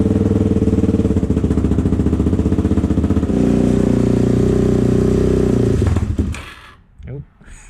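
A Suzuki DRZ400S motorcycle with its fuel screw reset to 1.5 turns out and running rich thumps loudly and evenly for about six seconds, then sputters and cuts out.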